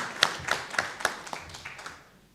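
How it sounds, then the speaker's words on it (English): Sparse applause for the faculty at a judicial ADR training session in a hotel in Mbarara: a handful of separate claps with a few overlapping hands, quiet and brief, fading out after about two seconds. "another round of applause for the faculty and for ourselves"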